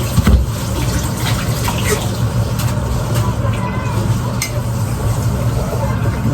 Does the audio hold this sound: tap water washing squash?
yes